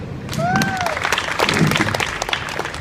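Onlookers at a Sydney street performance clap after a good knife throw, a lively burst of applause mixed with crowd noise and a whistle-like tone early on.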